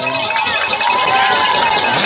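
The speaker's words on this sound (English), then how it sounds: "We hear clapping on the home side." The home-side crowd at a high school varsity football game, Hamburg versus Stuttgart, fills the air with loud continuous noise of cheering and clapping, with voices mixed through it.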